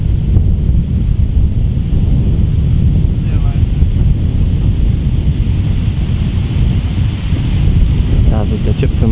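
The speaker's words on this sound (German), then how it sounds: "So, jetzt kommt hier richtig Wind auf." Strong wind on a links golf course at the Kölner Golfclub, roaring loudly and steadily into the microphone with a dense low rumble and rustle, with faint voices underneath.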